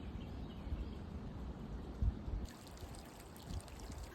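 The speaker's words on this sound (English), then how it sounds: "I've come across a little creek crossing" Water trickles and burbles steadily at a small creek crossing on a trail, a soft continuous flow with a few louder splashes, close by and with no talking.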